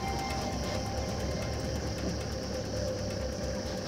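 A vehicle engine runs steadily on a mountain track, a loud continuous rumbling drone with no pauses and no voices.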